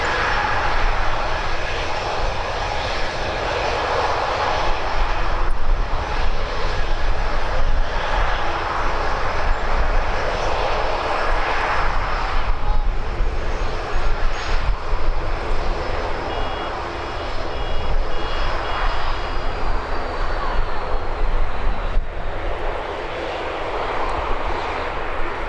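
Airliner engines roar continuously during departures at Birmingham Airport, a loud sustained rumble with a broad hiss that swells and eases slightly over time.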